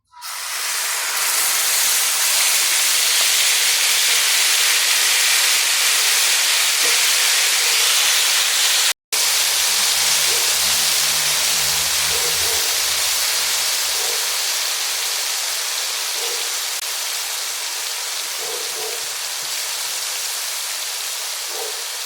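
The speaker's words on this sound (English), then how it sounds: "Let our steak cook a little." A steak sizzles in a hot, smoking skillet, giving a loud, steady hiss with crackling spits that keeps going throughout, broken only by one momentary cut.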